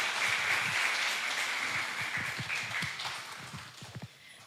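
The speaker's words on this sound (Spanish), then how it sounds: "con un fuerte aplauso les damos la bienvenida a ellos también" An audience at an academic conference session on voice analysis gives sustained applause. A dense, even wash of clapping carries on throughout and thins slightly at the end, with a few distinct claps near the close.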